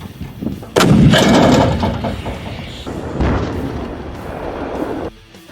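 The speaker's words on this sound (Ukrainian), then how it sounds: "Постріл!" A loud artillery blast booms close by, followed by a long rolling rumble and echo that fades after several seconds.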